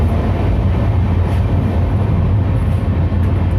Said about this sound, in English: Oh, military train.